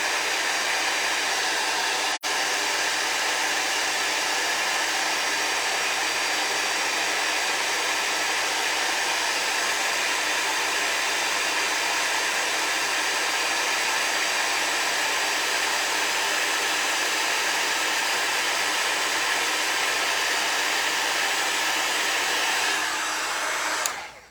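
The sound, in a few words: heat tool heat-setting gold embossing powder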